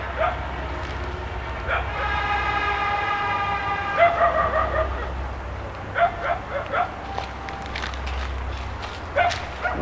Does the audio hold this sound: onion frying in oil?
no